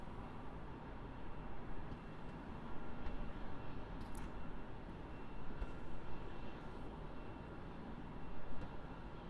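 Air New Zealand airliner rolling at Melbourne Airport, heard from a distance as a steady low rumble with gently swelling roar, no voices.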